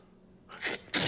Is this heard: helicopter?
no